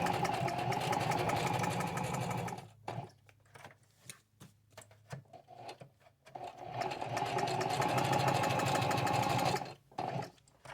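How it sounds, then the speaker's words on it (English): Sewing machine stitching lace onto a denim jean jacket, running in two loud sustained bursts separated by a few seconds of pauses and short stop-start runs, heard close and alone. "Sew all the way around it and cut it out"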